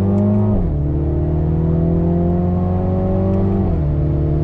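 Engine of a 2020 Mini JCW Clubman during a slow U-turn, a steady close hum whose pitch rises slightly after a moment, holds, then drops again, with no talk over it.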